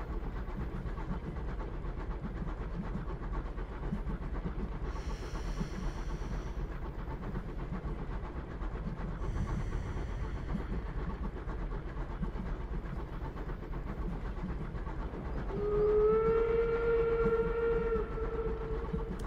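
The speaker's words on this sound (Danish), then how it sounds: "Lyt til rytmen for toget." A steady low rumble of a train rolling along the rails, with faint squeals along the way and a whistle sounding near the end.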